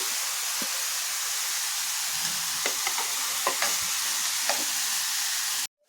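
Finely chopped cabbage stir-fries in a pan with carrot, capsicum and ginger for veg momo filling. A soft, even sizzle runs under occasional spatula scrapes and taps, then cuts off abruptly.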